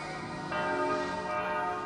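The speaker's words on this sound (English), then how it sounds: "They're the church bells now." Church bells ring out across Jerusalem's Old City, a steady, fairly loud peal of overlapping tones that swells after the first half second and keeps ringing throughout.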